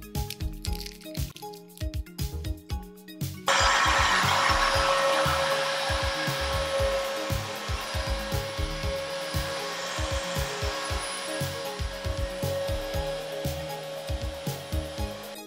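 An Electrolux vacuum cleaner switches on with a loud, steady roar and sucks up tortilla chips, crunching and rattling clatters breaking through the motor noise after a stretch of chip-crunching beforehand.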